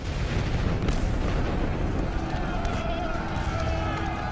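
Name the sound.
gunfire rumbling, artillery sound effect in WWI documentary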